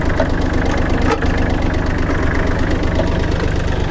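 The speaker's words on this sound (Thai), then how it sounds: "พีดีโอนะครับทำงานปกตินะครับ หมุนได้ปกตินะครับ" A Kubota L3408 tractor runs steadily at idle with its PTO shaft spinning, a dense, continuous low engine rumble with a faint knocking beat, near and loud, with no other sounds on top.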